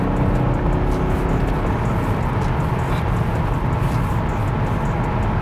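A BMW 535 GT diesel pulls hard at full throttle, its engine a loud, steady drone with dense low rumble and road noise throughout, with no talk over it.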